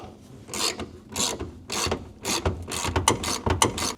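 Ratchet wrench with a 10 mm socket backing out a car fender bolt, giving repeated bursts of close, rasping clicks in an uneven rhythm.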